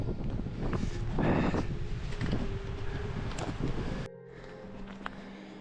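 Strong wind buffets the microphone in roaring gusts while hiking in the Esterel massif, then drops away abruptly near the end, leaving quieter background sounds.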